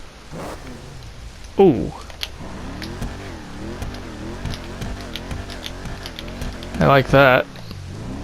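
Declasse Mamba classic car in GTA Online, side-exit exhaust, starting up and revving in the snow. The engine rises and falls under a person's talk.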